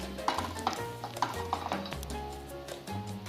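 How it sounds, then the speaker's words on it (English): A spoon stirs a pot of boiling curry with mushrooms, giving repeated scraping clinks against the pot over a low bubbling simmer and a steady background hum. "I'll mix it well and let it start boiling"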